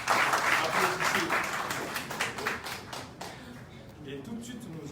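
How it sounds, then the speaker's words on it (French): Audience clapping at a press conference in Mali, a dense burst of applause that starts strong and gradually thins into scattered claps, with a voice speaking over the tail. "Applaudissez."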